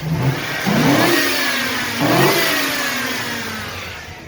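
A 1999-2006 Chevrolet Silverado or GMC Sierra pickup engine fitted with an aftermarket cold air intake revs twice in quick succession, rising and falling with a loud, breathy intake roar, then settles back toward idle.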